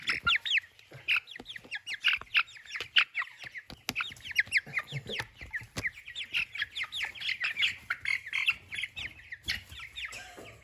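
Young chicks peep rapidly and repeatedly in a brooder, high thin chirps coming in quick overlapping bursts close by, with some soft rustling and knocks beneath.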